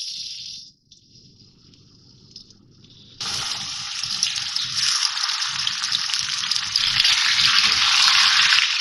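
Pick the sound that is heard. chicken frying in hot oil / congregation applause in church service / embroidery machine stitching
chicken frying in hot oil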